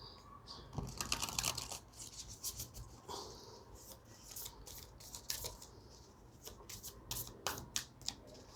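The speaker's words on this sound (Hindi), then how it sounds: "मैं वापस एक बार शफल करके" Tarot cards being shuffled by hand, a run of crisp riffling and rubbing bursts that come and go in quick clusters, close up and fairly quiet, with no voices.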